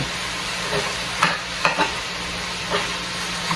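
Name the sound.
chicken being broken up while cooking in cast iron pot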